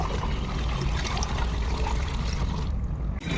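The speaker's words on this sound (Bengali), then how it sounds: "দেখি যতটা জল ভরিয়ে নেওয়া যায়" Water pouring steadily into a container, a continuous close splashing rush with no talk over it.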